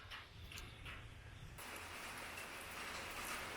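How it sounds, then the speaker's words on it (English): Steady rain patters and hisses across a surface, soft and continuous, growing slightly denser partway through. "it started raining really heavy, but now it's just sprinkling"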